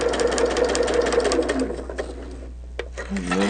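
A sewing machine stitches along an inner fabric section, a steady mechanical whir running loud for the first half before fading into quieter handling noises and brief pauses near the end.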